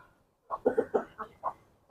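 Chickens being fed outdoors as rain approaches, giving a short run of about six soft, close clucks and calls spread over roughly a second and a half, with no voices.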